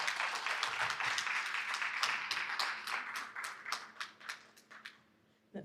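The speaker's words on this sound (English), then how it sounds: "Can we give him a round of applause," Audience applause at a diaspora convention in the UK, a crowd clapping steadily at first, then thinning into scattered individual claps that fade out near the end.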